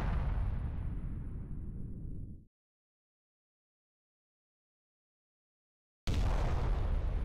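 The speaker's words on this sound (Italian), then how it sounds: "Un'esplosione!" An explosion in the LBX: Little Battler Experience animated series, a loud roaring blast that rumbles and fades away, then a dead silence before a second heavy burst hits abruptly.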